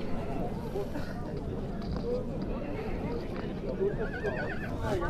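Horses whinny repeatedly at a busy horse market in Özgön, Kyrgyzstan, their neighs rising over steady hubbub of crowd chatter and nearby voices.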